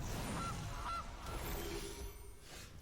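Goose honks from the MTG Arena card game, two short nasal honks in quick succession, fairly quiet, with no talk over them.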